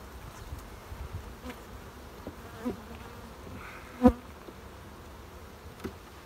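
Honeybees hum around an open beehive while frames are handled, a steady close buzz with a few louder individual bees passing near, and no talking.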